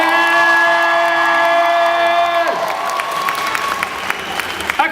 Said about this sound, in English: vous l'applaudissez mieux que ça